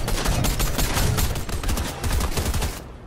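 Rapid video game gunfire, dense bursts of automatic shots crackling almost without pause at close range, briefly dipping before resuming and cutting off abruptly at the end.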